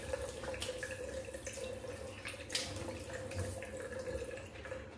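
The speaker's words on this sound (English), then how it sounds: "I'll just wet my face." Water runs from a tap while a man wets his face before shaving, a faint steady trickle with small splashes, alone and quiet.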